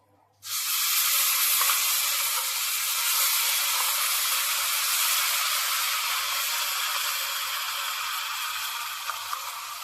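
Ground spice paste for doi katla hits hot oil in a pan with a sudden loud hiss, then fries in a steady, even sizzle that holds without letting up.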